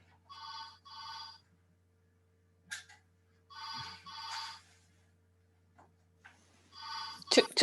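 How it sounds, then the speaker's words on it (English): An office telephone rings in repeated double bursts, clear and fairly close, in an otherwise quiet room, with a brief thump or movement between the rings. "I've just got to unplug the phone"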